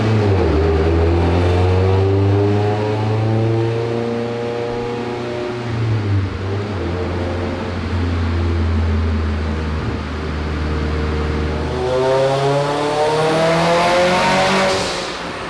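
A Mitsubishi Evo X engine on a dyno roars loudly and steadily, holding high revs for a long stretch before climbing to a louder, higher pitch near the end.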